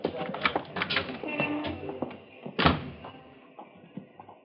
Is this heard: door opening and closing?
yes